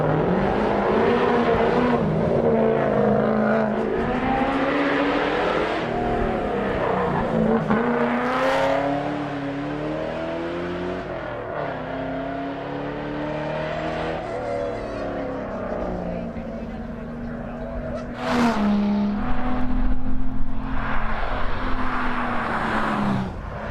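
A Mazda race car climbs a hillclimb course at the Legend of the Lakes event, its engine rising and falling through gear changes and revs, with a commentator talking over it throughout.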